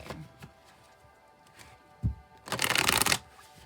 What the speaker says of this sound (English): I'll shuffle till the deck feels ready